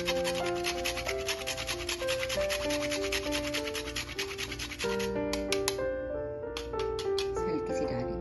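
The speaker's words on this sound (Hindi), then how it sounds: "इसको कद्दूकस कर लेते हैं।" An ingredient rubbed on a hand grater while making chana pulao, giving steady rhythmic rasping strokes that sit under prominent background music.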